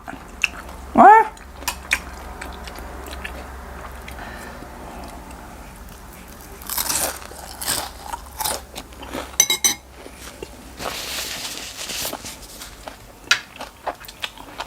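Crunchy fried enoki mushrooms with spicy sweet-sour dressing being bitten and chewed up close, irregular crisp crunches scattered through a quiet room with some faint background noise.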